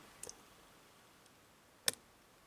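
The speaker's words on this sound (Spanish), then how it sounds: "el quinto ahí da otro pequeño clic y un avance" Sharp little click from a pin setting while a Sargent 6-pin challenge lock is picked, one faint early tick, then a single crisp snap near the end against near silence.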